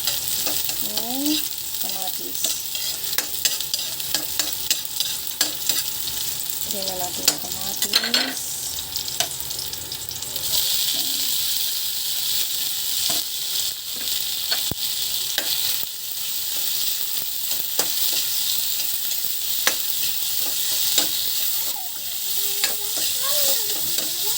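Onion and garlic sauté in a pan for a Filipino sardine dish with sweet potato leaves, a steady loud sizzle running throughout with repeated scraping and stirring strokes.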